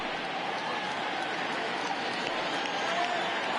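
Steady crowd roar from a simulated baseball stadium in MLB The Show 20, Brewers versus Cardinals, swelling slightly as fans rise for a full count; a continuous, even wash of cheering with no distinct voices.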